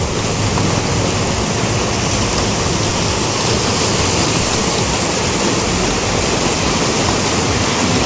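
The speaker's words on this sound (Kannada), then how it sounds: "ಗಾಳಿಯೊಂದಿಗೆ ಎಡೆಬಿಡದೆ ಧಾರಾಕಾರ ಮಳೆ ಸುರಿತಾ ಇದ್ದು" Torrential rain driven by wind pours down without letup over flooded roads, a dense, loud, unbroken roar of water with no voices.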